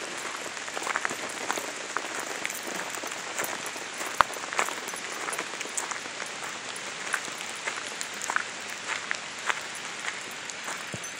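Rain falls outdoors in close, crackling patter, a continuous spray of small irregular drop ticks on a surface, steady throughout with no voices.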